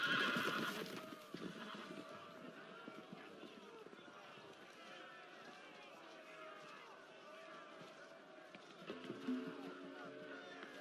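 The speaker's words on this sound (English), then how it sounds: "The horses! They're loose!" Horses whinny and hooves clatter as they run, with voices and commotion mixed in, fairly faint and distant.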